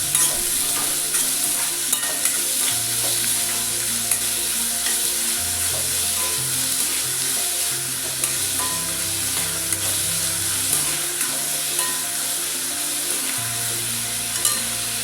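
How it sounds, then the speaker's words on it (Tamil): Chopped onions fry in a pan, sizzling steadily throughout, with regular scraping and knocks from stirring and a low hum running beneath. "இப்போ நம்ம கட் பண்ணி வச்சுருக்க வெங்காயத்தை ஆட் பண்ணிக்கலாம். வெங்காயம் நல்லா வதங்கணும்."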